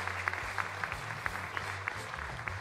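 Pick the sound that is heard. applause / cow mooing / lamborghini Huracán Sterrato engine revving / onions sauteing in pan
applause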